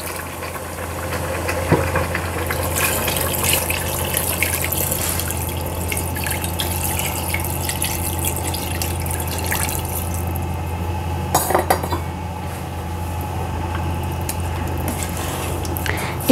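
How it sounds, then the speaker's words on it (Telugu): Water is poured into a pot of mutton cooking for haleem, a steady splashing pour over a low hum, with a brief sharp clatter partway through. "ఇప్పుడు నీళ్ళు పోసుకుందాం."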